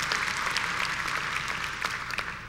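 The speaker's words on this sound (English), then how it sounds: "Yes, applaud that." Audience applause at a Christian conference, a steady dense wash of many hands clapping throughout, fairly loud and continuous with no talk over it.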